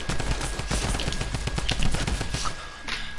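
Rapid shotgun blasts in a video game, a dense run of loud, closely spaced shots firing for about three seconds with no talking.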